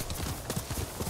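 Horse hooves clip-clop in a quick, steady rhythm while riding across fields in Ghost of Tsushima, close and clear, with no talking.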